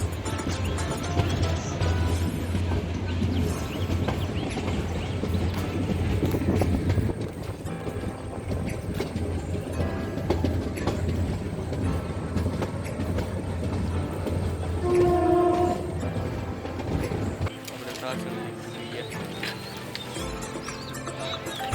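Train ride from Talala toward Satadhar, heading into the Sasan Gir forest: a continuous low rumble of a moving train carriage, with rattling and clanks, brief higher tones and a drop in noise near the end, no clear talk.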